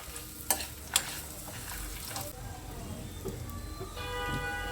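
A coconut mixture with spices fries quietly in a pan as it is stirred, two sharp clinks of the utensil near the start, then a low steady sizzle and scraping, faint and close.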